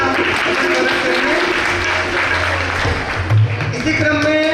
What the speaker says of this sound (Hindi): तो ऐसे भक्त के लिए एक बार जोरदार ताली द्वारा करेंगे।